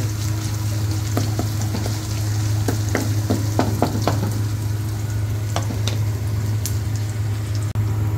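A wooden spatula stirs and scrapes snails through a sizzling pan, with soft irregular knocks over a steady frying hiss and low hum.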